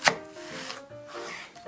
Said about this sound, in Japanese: 根元に包丁を入れて縦半分に切り、さらに根元に包丁を入れて半分に切ります